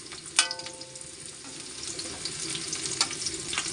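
Onions frying in a pan and being stirred, a soft steady sizzle with a sharp clatter of the spoon near the start and a few later scrapes, moderately quiet.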